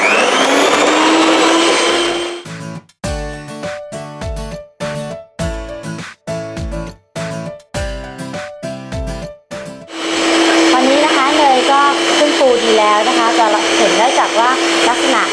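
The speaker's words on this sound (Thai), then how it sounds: "ใช้สปีดนะคะที่เร็วที่สุดนะคะ วันนี้เราจะใช้เบอร์ 5 เลยนะคะ เพื่อที่เนยและ ไอซิ่งนะคะจะได้ขึ้นฟูค่ะ" Electric mixer at top speed (setting 5) whipping butter and icing sugar for chocolate chip almond cookies: a loud, steady motor whine, broken into short bursts midway, then running continuously again.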